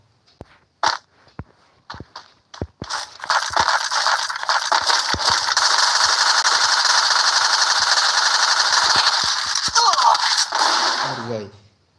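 Gunfire in the mobile shooter Free Fire: a few sharp single shots open, then a long dense automatic burst roars continuously for several seconds before tapering off, loud and close.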